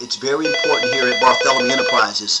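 A phone ringtone chimes in a repeating melodic pattern, running steadily under someone talking over it in a business presentation about loans.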